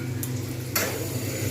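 Green peas tip into hot ghee in a pan on low heat for Kolkata-style aloo dum, bursting into a sudden close sizzle after a faint earlier tap, then settling into a soft frying hiss.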